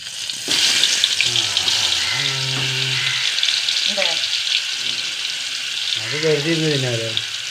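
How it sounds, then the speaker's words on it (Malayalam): Onion, curry leaves and chilli frying in a pan: a steady, loud, broadband sizzle continuing throughout, close by, while someone talks over it at intervals. "ഉള്ളിയും കറിവേപ്പിലയും മുളകും ഇതിലിട്ട് കൊടുക്കുക"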